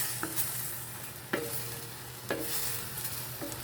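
Tofu and kangkong (water spinach) simmering and being stirred in a pan, a steady sizzle broken by several sharp scrapes of a utensil against the pan, close and without voices.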